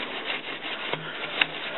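A fluted groove on a Damascus bolster is hand-sanded with 120-grit abrasive, giving a short, close scratching rub with a couple of sharper strokes.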